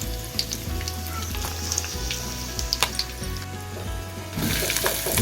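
Crab pieces dropped into hot, thickened masala gravy sizzle and fry loudly and steadily, with a few sharp crackles and spatters rising over the constant hiss.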